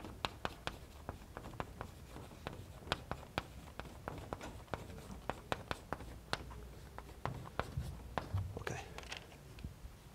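Chalk writes out polynomials on a lecture-hall board in a run of sharp, scattered taps and scratches of uneven rhythm, close and fairly quiet, with faint room noise between strokes.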